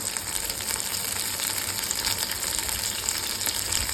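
Green chillies, onions, coriander and mint fry in hot oil for a fish curry, a steady, dense sizzle that holds at an even loudness throughout with no voices.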